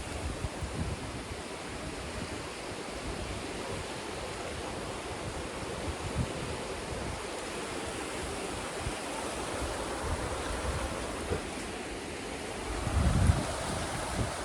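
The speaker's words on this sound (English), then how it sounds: "Looks like we're at the ocean because the wind blowing the water. I love to hear the water." Ocean water stirred by blowing wind makes a continuous broadband rush of surf and gusts, steady and fairly loud throughout with a slightly heavier swell near the end.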